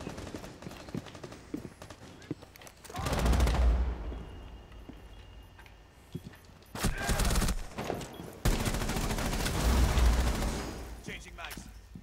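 Gunfire in Rainbow Six Siege comes in two heavy, loud bursts of shooting separated by quieter stretches with scattered clicks and impacts, with no one talking over it.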